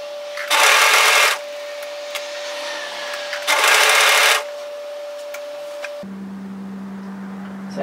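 A sewing machine stitching a dress seam through four layers of fabric, running in two short loud bursts of rapid stitching, separated by a quiet pause with a steady hum in the background.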